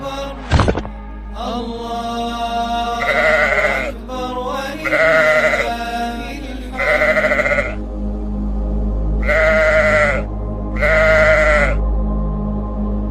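Sheep from a heaven-sent flock bleat repeatedly, a series of loud, close, wavering calls spaced a second or two apart over a steady low background hum, with a sharp knock near the start.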